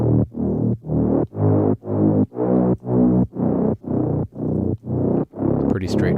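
Smooth synth bass preset from a deep house sample pack plays a bass MIDI line, a dozen evenly spaced, rounded notes in a steady rhythm, loud and upfront with no other parts.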